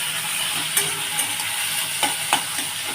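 Chopped tomato sizzles in hot oil in a pan with morola fish, a steady close hiss broken by a few sharp clicks of stirring, with no one talking.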